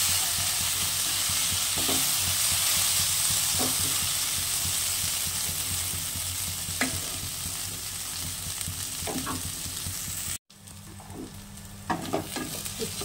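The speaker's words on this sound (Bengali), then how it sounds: "একটু উচ্ছে আলু ভাজা হচ্ছে" Bitter gourd, potato and onion, seasoned only with salt and turmeric, sizzle steadily in a pan while a utensil scrapes and stirs them in scattered knocks; a short break near the end, then the frying and stirring resume.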